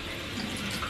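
A tap runs steadily into a sink at a home bathroom counter, a continuous close splashing wash of water with no talk over it.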